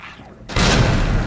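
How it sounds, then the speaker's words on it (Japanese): A sudden loud explosive boom in the survival horror game Resident Evil 2 remake, cutting in after brief quiet and rumbling on for the rest of the moment. "あ、それ爆発するやつか、"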